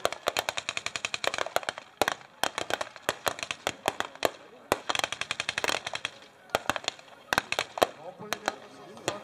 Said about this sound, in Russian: Но пулемет со стационарной позиции тоже отработает.